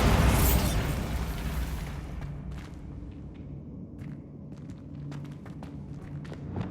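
The Bombarda blasting spell in Hogwarts Legacy sets off a loud, close explosion that opens the moment, then rumbles down into a low, fading roar with scattered crackling debris.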